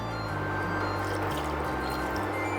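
A small splash of clean water poured into vegetarian green curry as the coconut milk boils in the pot: a steady, close liquid pouring and dripping sound that runs continuously for a few seconds, with no talking.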